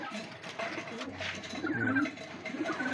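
Pigeons coo softly nearby, low throaty calls overlapping one another against a faint background murmur.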